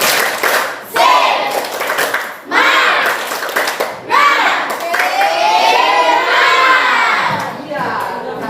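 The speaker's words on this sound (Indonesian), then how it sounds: "nah sekarang kita tepuk semangat dulu" A class of schoolchildren standing in a classroom performs a tepuk semangat clapping chant, a loud group of young voices shouting in rhythm with bursts of hand claps that rise and fall across the clip.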